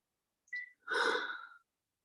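A brief sharp intake followed by a long, deep breath drawn in during a fitness session, close and clear against silence.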